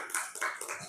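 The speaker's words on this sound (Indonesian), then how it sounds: "Tepuk tangan." Short burst of hand clapping from a group in a classroom, a quick patter of overlapping claps, fairly close, with no talk.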